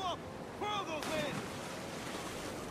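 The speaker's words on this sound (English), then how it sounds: "You just fell in the water." A character plunges into ocean water in the video game Assassin's Creed 4 Black Flag: a sudden splash bursts in after a few short tonal game sounds, then fades into a steady wash of sea noise.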